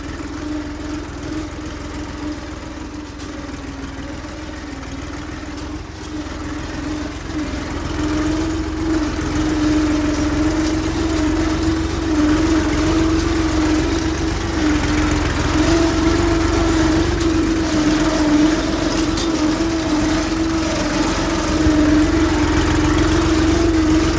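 A tractor engine idling nearby in a farm setting, a steady droning hum with a constant low tone that grows slightly louder partway through, heard alone without talk.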